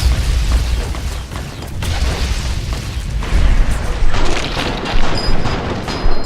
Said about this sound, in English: Oh, that's a missile.